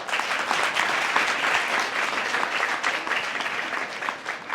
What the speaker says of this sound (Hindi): आप अपने लिए एक ताली बजाओ।